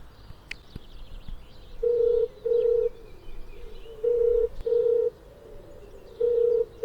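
A phone call rings on the line with repeated paired tone bursts at a steady cadence, close and clear above a quiet room background with faint outdoor bird sounds.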